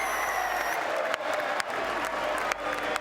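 Home supporters at a Zebre rugby match cheer and applaud after a try, a dense, continuous crowd roar with a few sharp spikes, heard close and loud.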